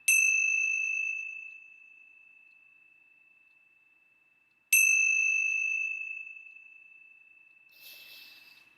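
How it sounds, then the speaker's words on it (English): Two clear bell strikes, several seconds apart, each ringing out in a long, slowly fading pure tone, followed by a soft rustle. "let's begin with the ringing of the bells."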